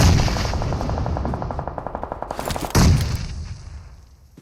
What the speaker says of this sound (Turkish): Aha ona sıkıyorlar